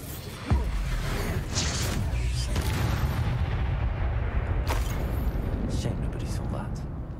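Expulso explosion spell cast in Hogwarts Legacy, a sudden loud boom that gives way to a sustained roaring rumble, with a few sharper crackling bursts layered through the blast.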